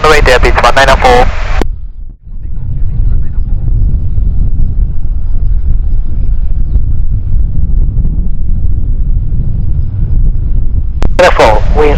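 Strong wind roars and buffets the microphone at Kagoshima Airport, a heavy low rumble that runs for most of the stretch, briefly interrupted by voices and clicks at the start and end.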